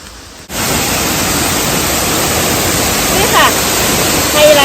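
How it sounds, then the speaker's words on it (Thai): Ghost Waterfall (Nam Tok Pisat) in Thailand gives a steady, broad rush of falling water. It starts abruptly after a brief quiet moment and holds loud and continuous, with faint hints of voices near the end. "นะคะน้ำตกเองเขียนว่าน้ำตกปีศาจนะคะ"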